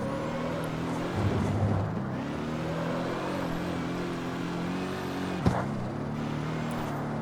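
A front wheel drive car in the video game CarX Street accelerates under heavy throttle, its engine a steady droning whine with layered harmonics that holds for the whole stretch, with one short sharp knock near the end.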